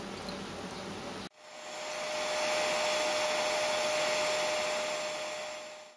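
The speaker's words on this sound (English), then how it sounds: "I'll turn the vacuum cleaner back on." Vacuum cleaner used as a blower for a metal-melting furnace to cast aluminium, switching on with a steady loud roaring whoosh and a thin whine that holds and then begins to fade.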